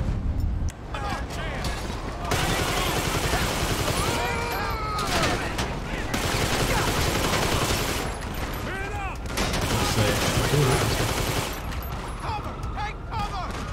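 Rapid bursts of mini AK fire in GTA V, loud sustained automatic shooting in several long volleys with short pauses between, under occasional talk.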